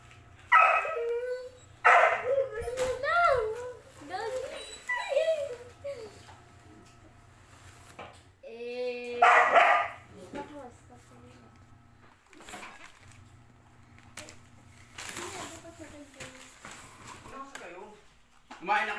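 A dog barks repeatedly at home, with loud close yips and barks coming in scattered bursts, mixed with a person talking throughout.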